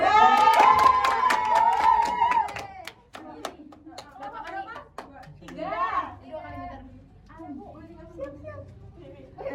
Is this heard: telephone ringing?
no